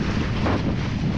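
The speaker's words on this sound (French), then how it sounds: "Là, il y a beaucoup trop de vent." Strong wind roars and buffets the microphone on a boat trip off Marie-Galante, a dense, steady rush with no talk, likely mixed with faint water and boat noise.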